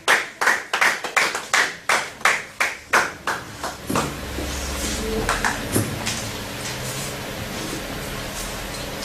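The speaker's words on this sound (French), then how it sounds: "Tobeteli Yesu maboko makasi." Church congregation clapping hands during Sunday worship, a run of loud, steady rhythmic claps for about four seconds, then scattered applause and a few sharp claps over a low hum of voices and music.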